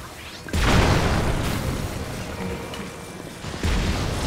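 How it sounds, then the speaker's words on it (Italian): Cannon fire in Zelda: Tears of the Kingdom, two heavy booming blasts about three seconds apart, loud and close, each trailing into a rumbling decay. "E ci siamo pure dati la cannonata in faccia."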